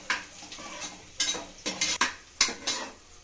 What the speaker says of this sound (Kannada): ಏನು ಈರುಳ್ಳಿ ಫ್ರೈ ಮಾಡ್ತಾ ಇದ್ದೀರಾ ಇವಾಗ?